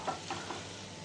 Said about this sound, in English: Butter aufschäumen lassen